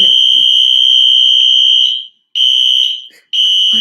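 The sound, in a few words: apartment alarm going off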